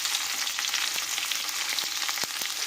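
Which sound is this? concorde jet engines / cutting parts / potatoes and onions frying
potatoes and onions frying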